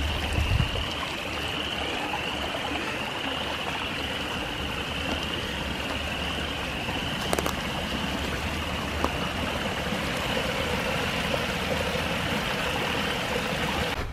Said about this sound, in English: there's going to be a lot of water running down these hills this morning.